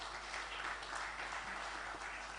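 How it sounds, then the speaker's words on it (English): Steady crowd applause, dense clapping filling the space evenly for a couple of seconds with no voices over it. "I think we must give him a round of applause"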